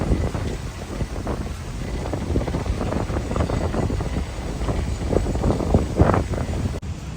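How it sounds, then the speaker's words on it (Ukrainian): Strong wind in Seattle buffets the microphone in continuous, rumbling gusts, loud and rough throughout with no other clear sounds. "Вітер сильний там."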